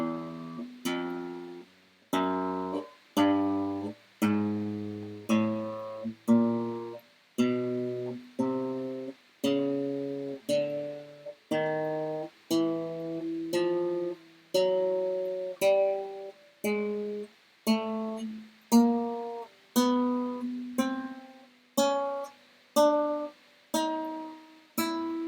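A chromatic scale played on guitar starting from the open first string, about two dozen single plucked notes at a steady, unhurried pace, each ringing and decaying alone before the next.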